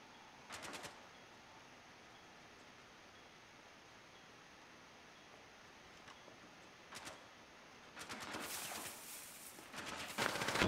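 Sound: gunfire shooting a camera, from video game Rainbow Six Siege

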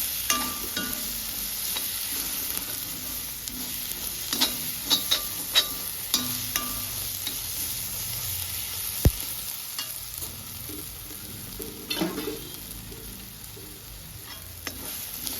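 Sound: frying turmeric in a pan for fish curry

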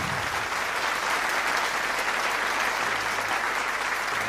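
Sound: applause for Prime Minister Brigi Rafini

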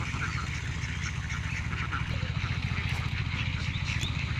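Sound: ducks quacking at a duck farm

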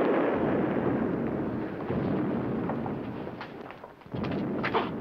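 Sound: thunder

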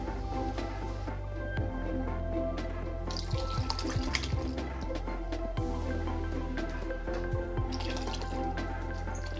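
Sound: pouring kitchen-waste liquid fertilizer into water

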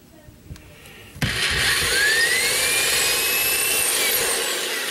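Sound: power drill with 1/8 bit drilling pilot hole

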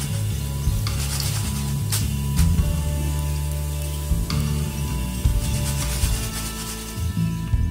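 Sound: rice nachos frying in hot oil

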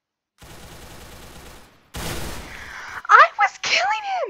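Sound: gunfire in a video game

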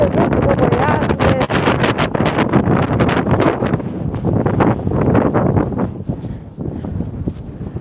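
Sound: strong wind blowing outdoors

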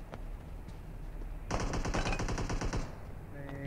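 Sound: machine gun fire in a video game

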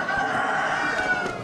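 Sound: roosters crowing at an Amish animal auction

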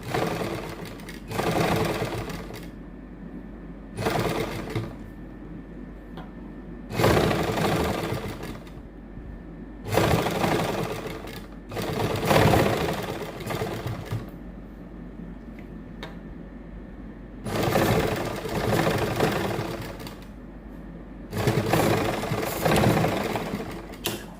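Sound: sewing machine stitching flower design on suit

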